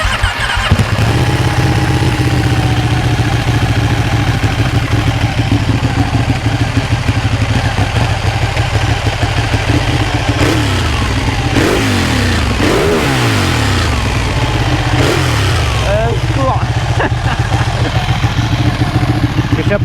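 Ducati 1199 Panigale S superbike on its stock exhaust, its V-twin engine firing up close and loud into a lumpy, throbbing idle, then blipped through several sharp revs that rise and fall before settling back.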